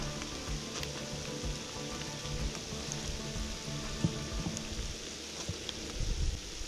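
Snow falling on hikers on a wooded trail in Mammoth Cave National Park, pattering and ticking steadily as it bounces off waterproof clothing, close and continuous with a rain-like texture and occasional sharper taps.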